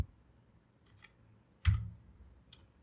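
A few sparse keystrokes on a computer keyboard while typing CSS code: three light, isolated clicks and one firmer thump, close and quiet in a silent room.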